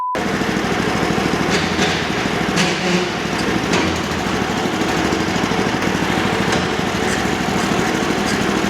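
A rare Japanese dump cart's engine running on its first drive, a loud, continuous rough putter close by with some clattering knocks over the steady drone.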